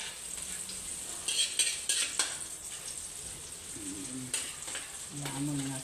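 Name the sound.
crab frying in margarine with garlic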